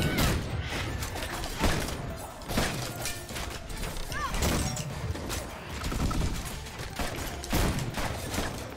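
Rapid gunshots crack out in the co-op video game Full Metal Furies, coming as a steady string of sharp bursts under busy game noise, with a voice talking over the action.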